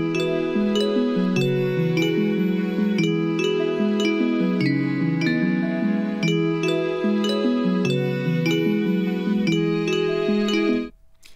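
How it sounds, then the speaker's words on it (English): Christmassy bells in a song, bright tinkling chimes ringing in a steady repeated pattern over a sustained musical backing, continuous for about eleven seconds before cutting off. "I like the Christmassy bells."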